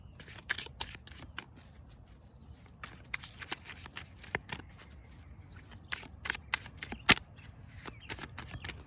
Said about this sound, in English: Really appreciate your patience, guys, while I'm shuffling the cards.